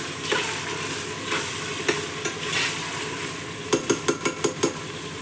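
Spoon scrapes and stirs a chicken biryani mixture in a pot after lemon juice goes in, with soft sizzling underneath and a quick run of sharp metallic taps near the end.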